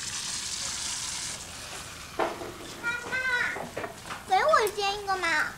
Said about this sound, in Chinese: 这不正煎着呢吗？